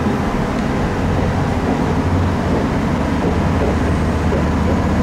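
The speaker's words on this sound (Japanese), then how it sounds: "床の下からグオーってエンジンの音が聞こえてきますが" Diesel engine rumbling beneath the floor of a JR Suigun Line railcar, a steady, loud droning roar with continuous running noise throughout and no talk.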